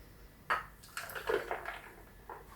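A spoon stirs a milk drink in a glass, with a handful of bright clinks and light swirling splashes over a couple of seconds, close and fairly quiet.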